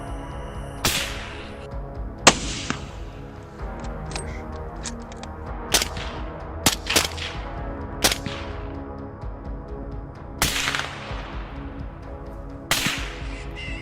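Rifle shots during a wild boar hunt ring out one at a time, about ten sharp cracks at irregular intervals over a steady low background hum, each shot followed by a short fading tail.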